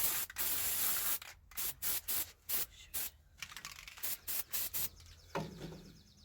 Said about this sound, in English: Spray that.